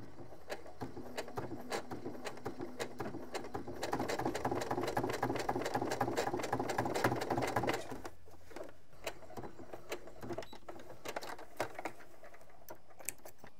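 A sewing machine stitches a seam on a Teddy Sésame bomber jacket, a fast rattling run that swells louder in the middle and then trails off into lighter intermittent ticking, with no talking.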